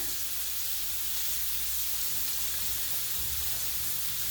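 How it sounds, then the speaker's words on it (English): Corn kernels hit a hot sauté pan for a maque choux with scallops, setting off a steady, broad sizzling hiss that holds evenly throughout at close range, with no talking. "This has sauteed up enough that I'm going to go ahead and add the corn."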